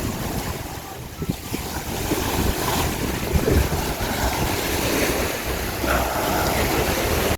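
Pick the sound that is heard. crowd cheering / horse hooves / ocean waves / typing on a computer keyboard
ocean waves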